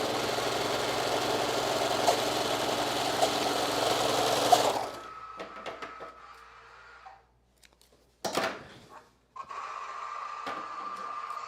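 A sewing machine hems a garment, running in a loud steady whir for several seconds, then stopping and restarting in short bursts with brief quiet gaps.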